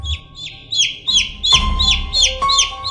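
A chicken brought for a ritual slaughter clucks and chirps in a steady series of sharp, close calls, about one every half second, with a low steady hum underneath.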